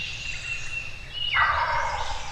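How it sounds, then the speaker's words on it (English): A wild turkey in the Mississippi woods lets out one short gobble at moderate distance, a quick rattling burst after a thin high tone, with no talk over it. "Little bitty short gobble on me right going to the right side."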